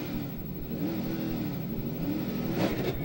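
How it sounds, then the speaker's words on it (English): A race car's engine drones steadily at mid pitch while the driver revs it and slips the clutch in the pits at the Daytona 24-hour endurance race, with a brief surge near the end. "You heard him revving it, trying to slip the clutch, but the car just wouldn't move."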